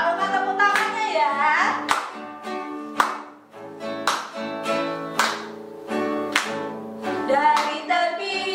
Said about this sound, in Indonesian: Jangan lupa tepuk tangannya ya.